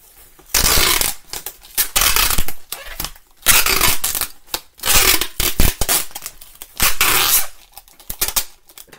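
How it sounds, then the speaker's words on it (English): Packing tape pulled off the roll in repeated loud, rasping screeches, several separate pulls with short pauses between them, close up. "That was a lot of tape noise."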